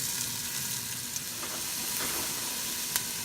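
Onions sauté in a pan as the first step of a beef bulalo, giving a steady, moderately loud sizzling hiss with a few faint crackles and no voices.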